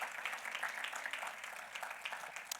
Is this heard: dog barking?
no